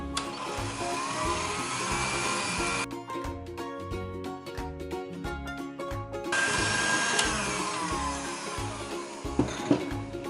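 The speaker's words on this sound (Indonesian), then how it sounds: "Kita kocok sebentar." An electric hand mixer whirs steadily while beating chocolate almond cookie dough, a loud continuous motor drone with brief changes in pitch as the beaters shift through the dough.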